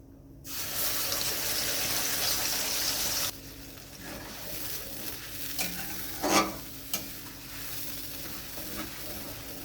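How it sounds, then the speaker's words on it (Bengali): Onion, ginger and tomato paste hits hot oil with whole garam masala, giving a loud, steady sizzle that then drops to a softer, crackling fry with a few sharp spits and clinks of stirring. "এবার আমি দিয়ে দেব পেস্ট করে রাখা পেঁয়াজ আদা আর টমেটো"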